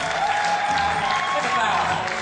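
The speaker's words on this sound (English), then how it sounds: "Give them a big round of applause." Audience applause for backing singers at a live vocal show aboard a cruise, dense steady clapping from a crowd mixed with music, continuous for a couple of seconds.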